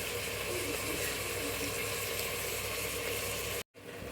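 Tomatoes, mint and masala fry in a pan after ginger-garlic paste, making a continuous dense sizzle that stays loud and even throughout before cutting off abruptly near the end, with no talking.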